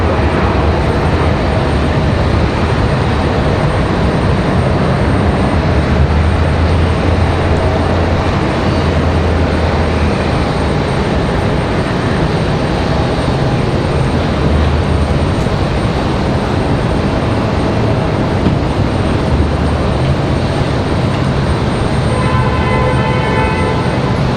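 A Sun Country airliner at Raleigh-Durham airport, flight 8181, gives a continuous loud broadband engine roar with no pause, heard nearby and steady across the whole stretch.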